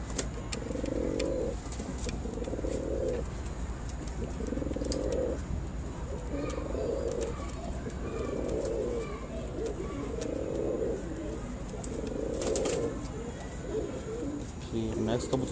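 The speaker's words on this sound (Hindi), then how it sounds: "क्योंकि रात का टाइम है कबूतर थोड़े घबराए हुए भी हैं" Pigeons coo at night in a steady repeating rhythm, soft throaty phrases recurring every second or so against a quiet background hum.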